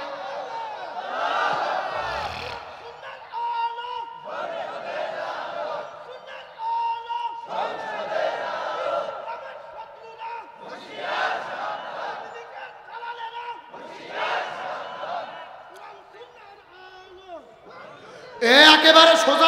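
A large crowd at a Bengali religious sermon gathering shouts a takbir chant in repeated loud bursts, roughly six swells separated by short pauses, with a sharper burst at the end.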